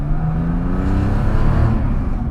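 A lifted safari-style Porsche engine of roughly 220 to 250 horsepower revs loudly and steadily, a sustained close-up drone with shifting tones and no speech over it.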